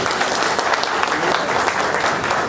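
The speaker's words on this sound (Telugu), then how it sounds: "అందరూ ఈ యొక్క సమ్మతిని చప్పట్లు తెలియజేయండి" An audience at a workers' conference in Greater Hyderabad bursts into dense, steady applause that carries on evenly at a moderate level, with no talk over it.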